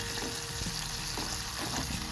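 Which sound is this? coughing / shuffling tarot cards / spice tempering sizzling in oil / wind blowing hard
spice tempering sizzling in oil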